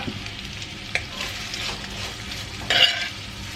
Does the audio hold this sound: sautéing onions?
yes